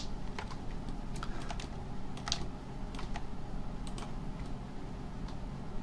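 Computer keyboard typing at a desk, a scattered run of light clicky key taps with a few sharper strikes, close and fairly quiet over a steady background hiss.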